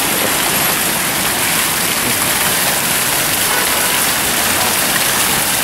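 A heavy rainstorm in Rome at Barberini Square, rain pouring steadily in a loud, unbroken hiss on the surfaces nearby.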